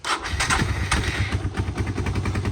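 A carburetted Suzuki Djebel 200 motorcycle engine turning over and catching, with rapid rhythmic chugging pulses that continue steadily throughout, loud and close with no talking.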